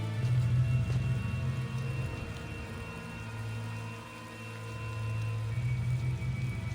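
Steady rain pours in a scene from the video game Tales of Xillia, a continuous hiss of drops with a low rumbling undertone, even and unbroken throughout with no voices.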